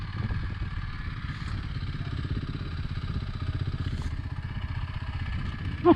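A Kawasaki motorcycle engine idles with a low, rapid, steady chugging pulse, fairly close and moderate in level, running on its own with a brief louder knock at the very end.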